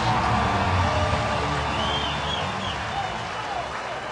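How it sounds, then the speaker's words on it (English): Baseball crowd at a Kansas City Royals versus Detroit Tigers game applauding as Brandon Inge comes up to bat, a broad, distant roar of clapping and cheering filling the stadium, slowly easing off. "They'll bring up Brandon Inge, who is sure to get a big round of applause."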